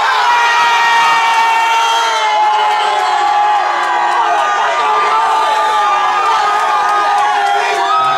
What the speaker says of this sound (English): If you think the winner of this battle was my man Short over here on my right side, make some noise.